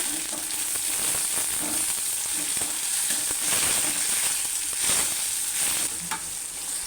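Onions and tomatoes sizzle steadily in a pan for a millet upma, with a loud continuous frying hiss and repeated scraping strokes of a stirring spoon, and no voices.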